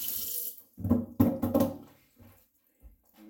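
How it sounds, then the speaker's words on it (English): Tap water runs into a kitchen sink as items are rinsed, the splashing surging and breaking in short bursts with small knocks before trailing off into near silence. "rinse off any final things you think might be dirty"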